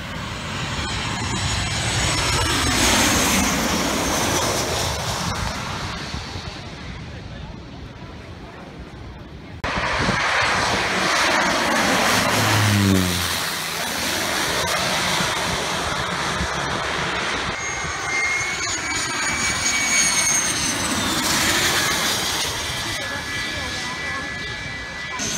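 Jet airliners roar low over Maho Beach on St Martin as they come in to land, a loud engine rumble that swells and fades across two passes, with surf and crowd chatter beneath.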